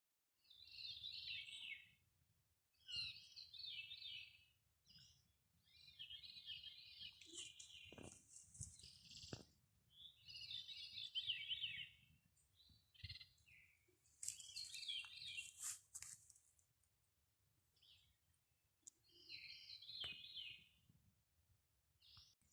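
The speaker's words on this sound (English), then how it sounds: "Can you hear the birds?" Birds chirp around a campsite on the Appalachian Trail: repeated short bright calls in clusters with quiet gaps, fairly clear against a very quiet background.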